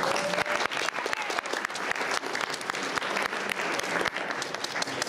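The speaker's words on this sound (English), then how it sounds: "I'll give him a round of applause" Elementary school audience claps for a guitar class helper: a fairly faint but continuous wash of many hands clapping, steady for several seconds with no break.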